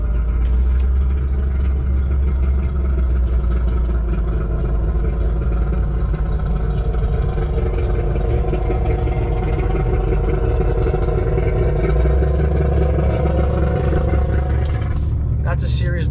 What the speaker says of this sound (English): What am I hearing? Oh my God, it's this boat starting.